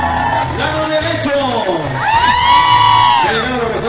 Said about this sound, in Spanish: el grito de mujeres, lado derecho